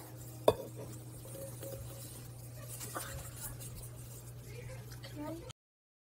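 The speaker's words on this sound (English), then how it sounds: "Now it's time to mix the peanut butter mixture with our flour mixture." Peanut butter mixture stirred into a flour mixture to make cookie dough, with soft scraping and clinks of utensil against bowl over a steady low hum, plus one sharp knock near the start.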